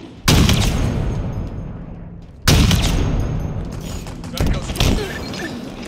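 Gunfire in the shooter Halo Infinite, two loud sudden blasts followed by sustained crackling volleys and further shots that decay slowly, close and dominant.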